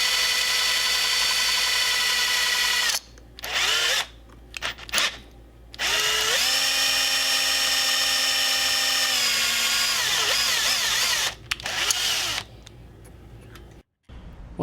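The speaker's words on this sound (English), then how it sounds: "slowly drilling until we get the desired depth" Small electric drill boring into the post of a 1962 Matchbox Ferrari F1 race car model at real speed, a steady loud whine that briefly cuts out and restarts several times, shifting pitch as the load changes, with no talking.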